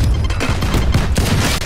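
A grenade blast and rapid gunfire in the tactical shooter Valorant, loud and dense throughout a short burst, with booming impacts under continuous crackling shots.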